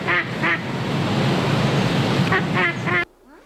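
During a children's story game, a duck's quack is imitated in short, nasal bursts, two at the start and two near the end, over a steady hiss.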